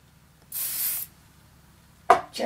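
A single short burst of aerosol spray, hissing for about half a second, followed a moment later by a couple of soft clicks and rustles.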